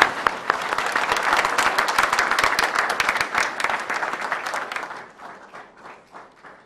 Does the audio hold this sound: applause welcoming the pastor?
yes